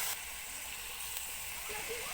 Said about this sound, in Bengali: হলুদ গুঁড়ো দিয়ে মশলাটা ভালোভাবে কষিয়ে নিতে হবে।